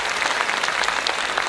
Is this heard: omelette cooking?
no